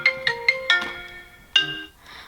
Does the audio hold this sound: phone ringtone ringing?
yes